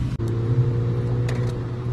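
A Mini John Cooper Works sports car driven hard through corners, its engine droning steadily up close with a sustained tonal hum and a brief dip early on.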